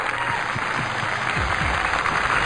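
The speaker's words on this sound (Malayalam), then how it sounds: "രണ്ടുപേർക്കും നന്നായിട്ട് കൈയടിച്ച്." A studio audience at a televised singing competition finale applauds the two contestants, a dense burst of clapping that holds steady and close, with no voices over it.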